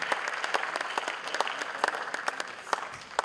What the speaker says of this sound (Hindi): श्री रतन दुबे का जोरदार ताली से स्वागत कीजिए